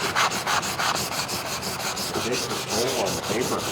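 Sandpaper worked by hand over the bare metal of a school bus being converted into a tiny home, making close, rhythmic rasping strokes in a steady back-and-forth scrub.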